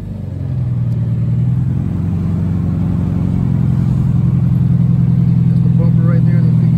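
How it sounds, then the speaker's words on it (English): A Scion FR-S sports car's engine starts and settles into a loud, steady low idle rumble close by, running continuously after a brief start-up. "Let me just start it real quick."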